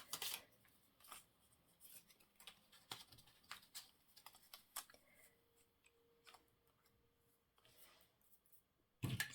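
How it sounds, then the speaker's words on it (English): Scissors cut through paper and lace in a quiet crafting session, a series of faint, sharp snips and clicks at an uneven pace, close by and with no talking. "Scissors."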